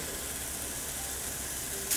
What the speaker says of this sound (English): Sizzling, they're sizzling.